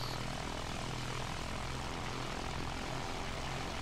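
Propeller airplane engine in the video game Battlefield 1, a loud, constant droning roar with a steady low throb, heard alone without talk.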